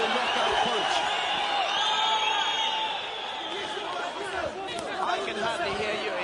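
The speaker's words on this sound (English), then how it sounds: "The crowd is so loud." A loud crowd at a fight between Gasan Umalatov and Alexei Beliaev roars continuously in the final seconds, dense cheering and shouting throughout with no pauses.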